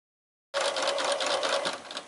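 A sewing machine stitches appliqué paw pads onto fur fabric, starting abruptly after a short silence and then running in a steady, close, even mechanical whir.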